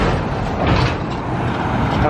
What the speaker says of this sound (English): Thanks, truck.